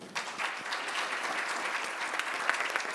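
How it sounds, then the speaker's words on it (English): An audience applauds a panel at a conference event, with steady, moderately distant clapping from a crowd that fills the whole short stretch, fairly quiet overall and with no voices over it. "I want to give a round of applause for our panel."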